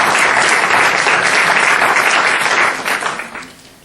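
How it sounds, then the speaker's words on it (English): A theater audience applauds at a grand opening dedication after a guitar performance, producing dense, loud clapping that holds steady for nearly three seconds, then thins out and fades. "Maybe another round of applause for the beautiful music from our nephew Joe on the guitar"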